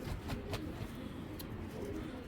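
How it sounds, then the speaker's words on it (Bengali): A black checker racing pigeon, a young male, gives a low, soft coo against a noisy, muffled background. The clip is brief and fairly faint, with a couple of short clicks. "অনেক সুন্দর একটা রিংয়ের কবুতর"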